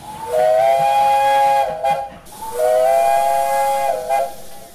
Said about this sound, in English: Iorwerth is equipped with a slightly lower pitch whistle compared to the other engines. Here are some samples.